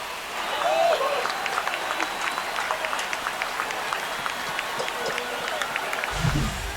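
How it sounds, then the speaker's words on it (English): A ballpark crowd in MLB The Show 25 cheers and claps steadily through a Marlins versus Mets game, a broad roar of applause at moderate distance that keeps going under a broadcast commentator's talk. "That's a great way to fire up this crowd."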